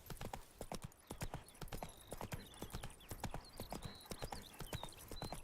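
A horse trotting in The Witcher 3 video game, rapid, close hoof clip-clops in an even rhythm throughout, with light chirping ambience behind.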